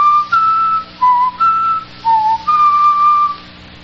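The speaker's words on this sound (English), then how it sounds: "Let me see if I can whistle those notes written in the musical theme." A person whistles a short melody of separate clear notes, about seven pitched tones with small gaps and one longer held note at the end, close and alone.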